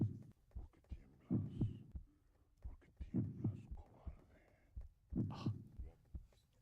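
A muffled heartbeat from the video game Threadbare StoryQuests thumps in steady paired beats over a low hum, repeating evenly at moderate volume.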